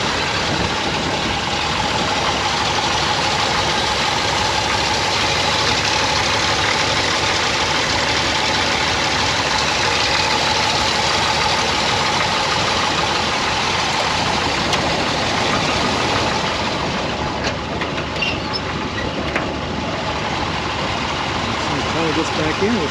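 A 1974 Jeep CJ-5 with a 4.2 liter inline-6 idling nearby, a steady, smooth engine drone that carries on evenly for the full stretch with little change.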